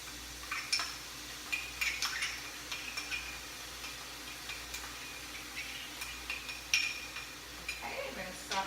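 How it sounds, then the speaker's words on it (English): Light sizzling of teriyaki sauce with carrots in a pan, with scattered clinks and scrapes of a utensil, moderately close, no talking. "I'm just going to add that to the pan. So a little bit of sizzle."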